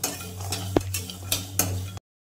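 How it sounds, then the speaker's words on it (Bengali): Whole spices and mustard seeds are stirred in a dry kadai over heat, with scraping and a few metallic clinks against the pan under a steady low hum. "কড়াইয়ের মধ্যে নাড়াচাড়া করে নিলাম"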